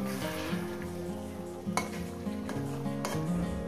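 Fish with whole spices is stirred and sautéed in a pan over a medium gas flame: a steady close sizzle with repeated scraping and clinking of a utensil against the pan.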